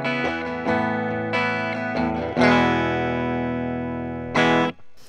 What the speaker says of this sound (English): I'm playing on a Stratocaster that's on the bridge pickup into clean Fender Blues Junior